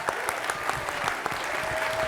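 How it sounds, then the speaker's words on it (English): A round of applause from an audience welcoming finalists at an awards introduction, steady even clapping throughout, fairly soft and distant in a hall. "Give them a round of applause."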